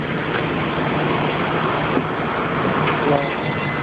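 A train runs steadily in a horror video game, a continuous broadband rumble and rattle that stays even and fairly loud throughout, with no speech over it.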